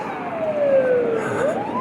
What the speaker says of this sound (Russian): Скорая мчится. Очень скорая.